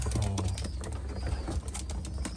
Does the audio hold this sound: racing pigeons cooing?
yes